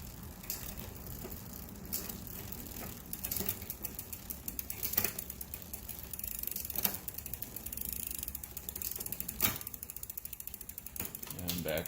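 On a Cannondale Delta V bicycle, the rear derailleur shifts through the gears with a steady run of ratcheting freewheel clicks and chain rattle, broken by sharper clunks as the chain jumps between cogs, all close to the mic.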